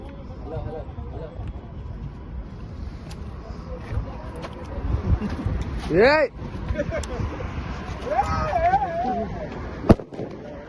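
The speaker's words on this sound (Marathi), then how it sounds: "तर आमचे फटाके फुटले" Diwali firecrackers go off outdoors in a burst of sharp pops and crackles. A couple of rising whistles are followed by a single loud bang near the end, and voices murmur faintly in the background.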